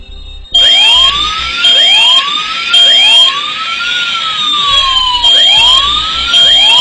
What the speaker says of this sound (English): So you find this type of siren coming out of the speaker.